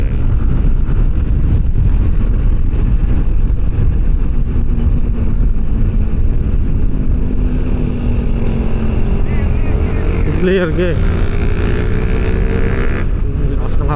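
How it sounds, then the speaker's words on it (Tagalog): Strong wind roars and buffets heavily against the microphone throughout a ride along the coastal road of Sorsogon, Philippines, with a low motor rumble beneath and brief muffled speech. "Lakas ng hangin"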